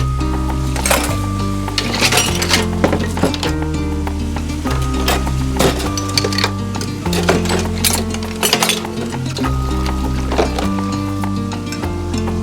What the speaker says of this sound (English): I'm going to wash my dishes.